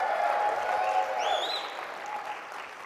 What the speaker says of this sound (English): Round of applause, right?